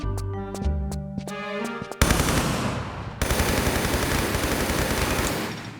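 Automatic MP5 fire and enemy gunshots in the video game Tomb Raider 3, a dense, loud burst of rapid gunfire kicking in abruptly after a tonal musical passage and continuing as a sustained clatter to the end.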